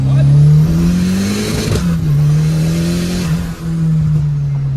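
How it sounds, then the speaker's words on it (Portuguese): A turbocharged car's engine revs up loudly and close, holding a strong steady drone that dips and rises slightly, with a brief whoosh from the turbo partway through. "Eu dou aquela aceleradinha ali de 50 metros para fazer um barulhinho"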